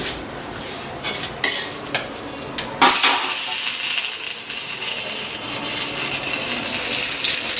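Panch phoron, a Bengali five-spice mix, is dropped into hot oil with a few metallic spoon clinks and clatters, then settles into a steady, close sizzle.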